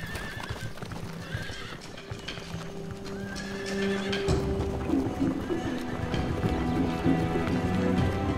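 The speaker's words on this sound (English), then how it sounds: "Heck cattle and Koniks, descendants of Europe's last wild horses." Konik horses, a primitive Polish breed, neigh and whinny on Baltic coastal reed pasture, with clip-clop hoof movement and the sounds of the herd getting fuller and louder over the second half, no speech.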